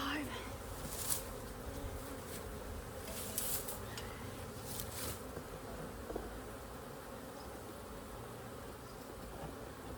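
Honeybees buzz steadily at an opened hive during a check on a queen's colony, a dense close hum lasting throughout with a few louder swells as bees fly near.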